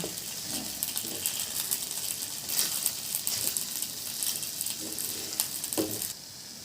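Grated coconut fried in ghee is stirred into sweet chakkara pongal, with repeated clicking, scraping spoon strokes against the pot over a soft sizzle, close and unaccompanied by talk.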